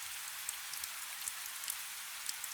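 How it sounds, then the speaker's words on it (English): Rain drums steadily on a roof overhead, a faint, constant hiss dotted with light individual drop taps and no voices. "You can hear the rain drumming on the roof directly above"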